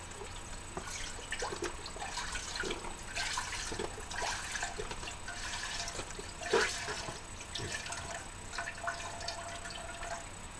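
Water pours and splashes into a soup pot of chicken soup in a home kitchen, a soft continuous trickle with faint drips and clinks, fairly quiet and with no voices.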